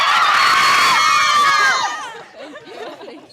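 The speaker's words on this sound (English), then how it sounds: "let your teammates cheer you" Loud crowd of cheering, shouting voices at a girls' high school basketball game, a dense roar that holds strongly for almost two seconds before dropping to scattered, quieter chatter and whoops.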